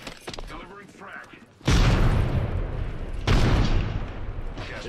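Frag grenade blasts in the battle royale shooter Apex Legends, two heavy booming explosions a couple of seconds apart, loud and close, each with a long rumbling tail over quieter game sounds.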